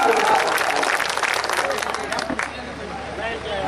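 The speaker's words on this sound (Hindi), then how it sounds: "एक बार ताली बजा के बताइए डॉक्टर साहब।" A live audience at an outdoor poetry gathering in Pratapgarh claps together in a dense burst that tapers off, with crowd murmur and a voice mixed in.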